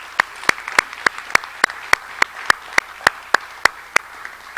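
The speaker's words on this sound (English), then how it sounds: "So one more round of applause." Regular clapping at a National Honor Society induction ceremony, about fourteen evenly spaced claps that sound like a single person's hands rather than a full audience, alone with no talk.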